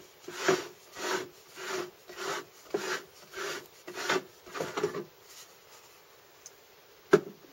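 A stone grain mill's millstones turn with a steady, rhythmic rasping grind, about a dozen evenly spaced pulses, then quiet and a single sharp click near the end.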